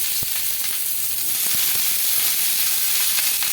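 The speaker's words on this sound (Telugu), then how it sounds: "ఒక కడాయి అయితే పెట్టేసుకోవాలి అందులోకి పచ్చిమిర్చి ముక్కలు" Green chilli pieces sizzle in a kadai with loud, continuous crackling and spitting, scattered sharp pops over a dense hiss, and no speech.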